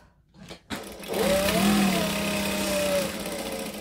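Sewing machine stitching a Tribbiani Traveller bag, a steady loud mechanical whir starting after a couple of brief clicks and running continuously to the end.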